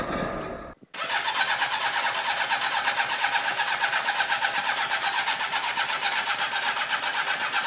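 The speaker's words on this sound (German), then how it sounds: "jetzt seht ihr, ich habe die Maschine gestartet und jetzt werden wir auf jeden Fall direkt weiterfahren" A Harley-Davidson Forty-Eight motorcycle engine cranks briefly, then fires and settles into a loud, steady, close rumbling idle with a fast even pulse.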